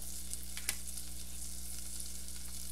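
Two tablespoons of butter sizzle steadily in a pan as a roux for a homemade mac and cheese sauce begins, a constant close hiss with one faint clink.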